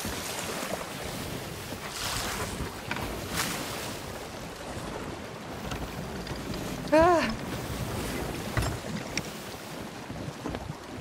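A sloop sails solo through choppy waves and takes on water. Wind buffets the microphone over constant sloshing and rushing water, with a brief louder splash partway through.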